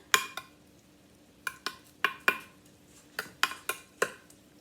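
A spoon scraping and tapping against a baking dish while a meat mixture is spread evenly for zucchini lasagna, about a dozen sharp clinks in irregular bursts, close and clear over a quiet background.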